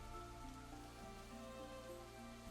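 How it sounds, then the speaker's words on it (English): Steady rain patters on surfaces in the game Psychedelica of the Black Butterfly, a dense continuous wash with a low droning tone beneath, no voices. "on nights with rain like this"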